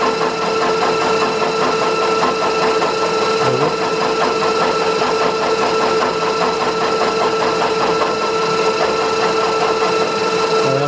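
Steady mechanical whirring and rhythmic clatter from a machine cutting a spline with involute gear cutters, continuous and fairly loud throughout with no talking.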